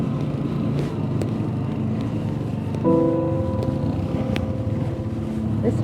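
Motorcycle engine droning steadily over rough terrain in Mongolia, with wind noise and bumps throughout and a tonal engine note rising midway; a voice is faintly present.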